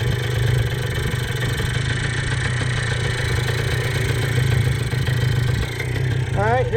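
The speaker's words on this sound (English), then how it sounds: "It does rev up, but it doesn't rev up very high" A 1978 Kawasaki KD175 motorcycle engine runs steadily and loudly up close, a continuous low throbbing drone with clattery texture that holds without strong rises, a brief whine entering at the very end.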